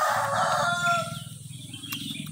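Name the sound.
rooster crowing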